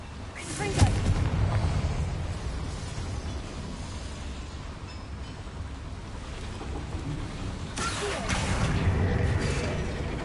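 Confringo fire spell blasts in Hogwarts Legacy, two loud booming impacts with rumbling decay, one near the start and another toward the end, over a steady low ambient background in a small mine.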